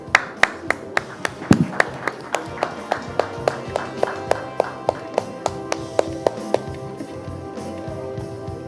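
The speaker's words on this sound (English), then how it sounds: "A round of applause, please, for our winners" At the NDTV Indian of the Year 2025 award ceremony, the audience claps for healthcare leadership winners, crisp evenly spaced claps in a steady rhythm standing out over a softer murmur of hands.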